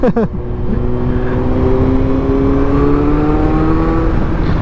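A 2022 Kawasaki Z900 with a silencer fitted to its exhaust drones on steadily, its engine note rising smoothly in pitch as it accelerates, loud and close from start to finish.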